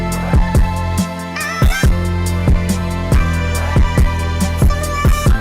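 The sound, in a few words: hip-hop beat playing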